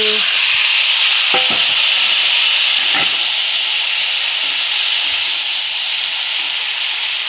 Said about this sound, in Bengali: আলুটা ভালো করে ভাজা ভাজা করে নিচ্ছি, এবার দেবো ব্রকলি।